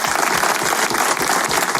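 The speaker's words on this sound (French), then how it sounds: "Applaudissements pour Nico Lilu qui nous rejoint." A studio audience claps steadily and loudly as a guest arrives on a live French radio show, dense applause filling the whole moment with no pauses.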